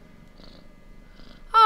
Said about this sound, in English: Aw, cute little purring kitty.